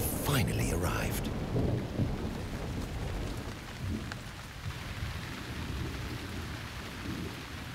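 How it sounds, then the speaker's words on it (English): Summer rain and thunderstorm over the plains of Botswana: a loud crack of thunder at the start gives way to steady, heavy rainfall with low rumbling throughout. "Out on the distant plains, the summer rains have finally arrived."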